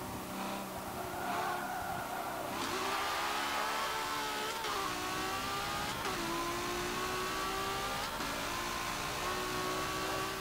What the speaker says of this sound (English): Trying to short shift as much as possible.